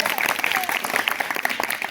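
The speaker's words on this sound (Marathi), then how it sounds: "सर्वांनी जोरदार टाळ्या वाजवून" A school audience claps loudly for the winning class team at a quiz competition, dense, steady applause from a crowd with no break across the moment.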